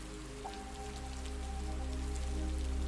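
Rain falls steadily near a stream by a cabin in the woods, a soft, even patter with a low, constant rumble underneath, faint and uninterrupted.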